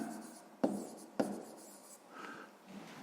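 A pen writing down a sixth-grade math solution on paper, with two sharp taps of the pen and soft scratchy strokes between them, close and quiet.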